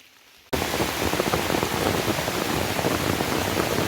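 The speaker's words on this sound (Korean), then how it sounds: "비가 너무 많이 옵니다. 완전 폭우입니다, 폭우." Heavy downpour of rain during a mountain mushroom-foraging hike, starting abruptly as a dense, loud, steady roar of drops hitting surfaces close by, with no voices.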